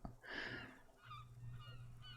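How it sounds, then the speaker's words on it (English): A seagull passes by in the Disco Elysium video game, letting out one loud honking squawk followed by a fainter trailing call over a low steady hum. "Another seagull passes by."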